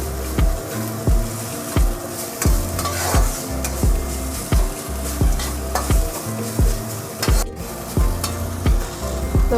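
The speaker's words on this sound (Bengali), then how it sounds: "এবার একটু তেলে শুধু একটু অল্প নেড়ে নিলেই আমাদের শাক ভাজা রেডি হয়ে যাবে" Kulpi greens being stir-fried in oil in a wok, a steady sizzle broken by regular scraping strokes of a spatula, close and loud with no talking.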